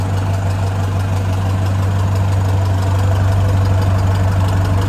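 A Swaraj tractor's diesel engine idling steadily, a loud low throbbing drone with a rhythmic knocking pulse that continues unbroken from start to finish with no talk.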